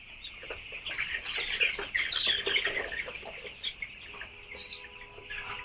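Chickens on a combined fish and poultry farm cluck and squawk steadily at moderate distance, with overlapping calls that rise and fall and no one speaking.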